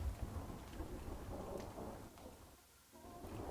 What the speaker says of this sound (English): Bring the rain down a little bit there.